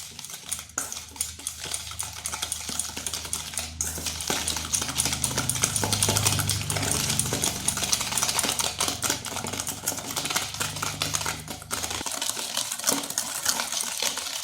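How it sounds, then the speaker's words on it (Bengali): Eggs and sugar being beaten together in a bowl for cake batter, a fast, continuous tapping and scraping of a whisk or beater against the bowl, steady and close with a low motor-like hum underneath for much of the time. "ডিম আর চিনিটা বেশ কিছুক্ষণ ফেটিয়ে নিতে হবে"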